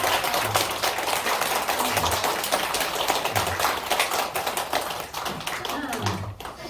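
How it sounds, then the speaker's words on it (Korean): A church congregation applauds its choir at a Christmas-season cultural festival, with dense, continuous clapping of many hands throughout and faint voices mixed beneath. "우리 수고한 우리 성가대를 위해서 큰 박수를 한번 보내주시면 좋겠습니다"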